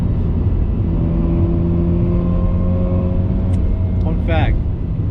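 A rebuilt Mazda RX-8 cruising Long Island back roads, heard as a steady, loud engine drone with smooth even tones and road rumble throughout, with a brief voice-like sound near the end.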